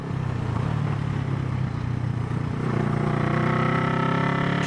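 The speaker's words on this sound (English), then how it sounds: "That exhaust. It's like straight pipes." Honda CB360 motorcycle with straight-pipe exhaust and no air filters, a loud, steady engine drone that holds near throughout, with pitch rising slightly toward the end as it revs.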